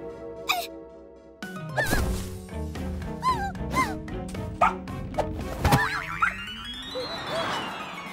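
A cartoon puppy yips and barks in quick, high bursts, mixed with springy comic sound effects and a whooshing swirl near the end.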